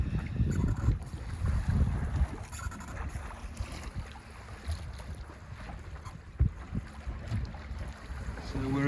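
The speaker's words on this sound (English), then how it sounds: "Cruising along with the wind behind us now." Small sailboat cruising downwind on a tidal estuary in the afternoon, with a steady wash of water along the hull and gusty wind buffeting the microphone, close and continuous, with occasional knocks and no clear talk.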